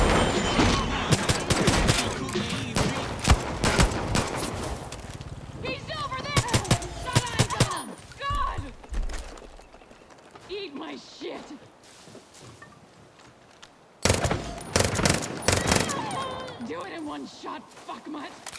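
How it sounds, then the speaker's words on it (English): Automatic turret fire from an enemy in the shooter game Far Cry New Dawn, heard as dense bursts of gunfire up front, a quieter lull in the middle, then another loud burst near the end, with game sounds mixed in. "Check out how long this guy takes to get on the turret and shoot me"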